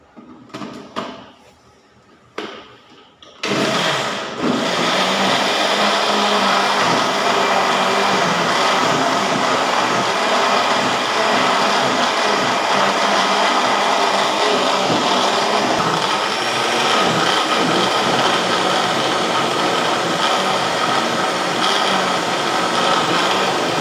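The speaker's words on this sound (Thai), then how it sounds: "ข้าวเบื่อเดี๋ยวใส่น้ำไปปั่นกัน" An electric blender blends soaked rice with water: a few clicks and knocks as it is set up, then a loud, steady whirring grind that runs on without pause for about twenty seconds.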